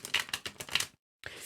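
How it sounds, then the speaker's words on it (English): Tarot cards being shuffled by hand in a series of quick papery riffling bursts, close and moderately loud, stopping briefly before resuming. "as I'm shuffling"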